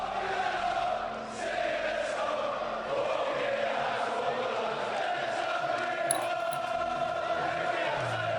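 A crowd at the Floyd Mayweather vs Ricky Hatton boxing fight, heavily pro-Hatton: a distant arena roar with chanting that holds steady throughout.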